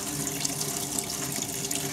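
Water runs steadily from a kitchen tap in a budget hotel room in St Julian's, Malta, a close, continuous splashing stream with no talk.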